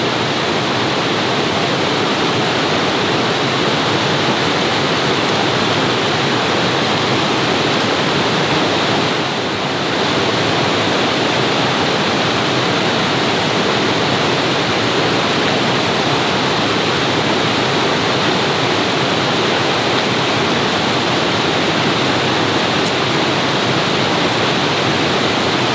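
White water rapids on a backcountry river give a steady, loud, broadband roar of rushing water that holds unbroken for the whole stretch.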